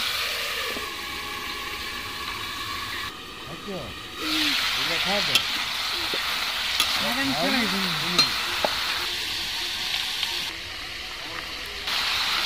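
Potato, cauliflower and other vegetables frying in oil for bhog khichuri, a steady broadband sizzle throughout with stirring scrapes, and a voice speaking over it in the middle.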